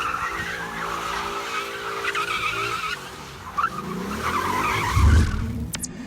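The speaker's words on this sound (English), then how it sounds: "It keeps the front brakes locked while you accelerate to warm the rear tires for enhanced grip." A Ford Mustang GT does a line lock burnout: the rear tires squeal and skid loudly while the front brakes hold, with engine roar rising and a heavy low rumble near the end.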